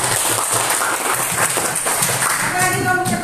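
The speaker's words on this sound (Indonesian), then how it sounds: "Beri tepuk tangan." Classroom applause for a student group: many hands clapping steadily in a room, with voices talking over it and a brief tonal sound near the end.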